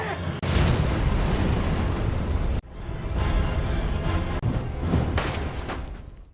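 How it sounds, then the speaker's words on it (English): Massive explosions thunder in a dense, continuous roar, cut off abruptly twice before booming again, loud and close. "triggering massive explosions."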